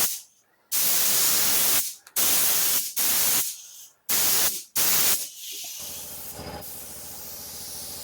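A spray gun with a 1.5mm tip hisses loudly spraying Resene Durepox Clear coat over a carbon twill benchtop, in several bursts of about a second each, separated by short silences, then quieter steady background noise.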